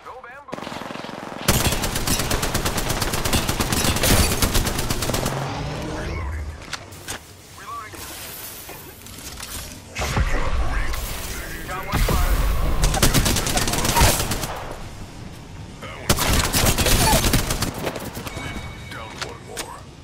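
Gunfire in Apex Legends comes in bursts of rapid automatic shots and crackling impacts across a busy battle, loud and close, with a player's voice talking over parts of it.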